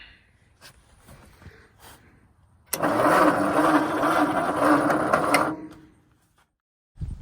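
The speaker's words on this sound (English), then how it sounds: "So the engine turned over. It was pretty snappy" A Ford 8N tractor engine cranks over on a new DB Electrical starter, a loud, steady churning burst lasting about three seconds after a quiet lead-in, then dropping away to silence before a brief final noise.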